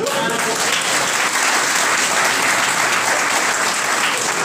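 Loud, sustained clapping from an audience at a Vestige distributor orientation program, a dense unbroken roar of hands that holds at full strength throughout.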